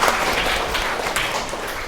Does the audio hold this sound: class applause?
yes